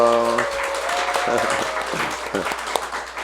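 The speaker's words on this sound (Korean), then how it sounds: "큰 박수로 환영해 주세요." Church congregation applauding at a Christmas service, broadband clapping filling the room for a few seconds right after a sustained tone fades, with a voice speaking over it.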